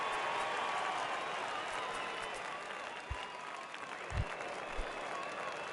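Stadium crowd applause in the baseball video game MLB The Show 19, a broad steady roar of clapping and cheering at moderate level with a few soft thumps near the end.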